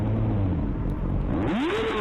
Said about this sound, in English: Why are you revving?